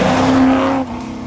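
Ford Falcon XB coupe with a rebuilt 351 Cleveland V8 running, a loud, close, steady throaty drone that eases down slightly near the end.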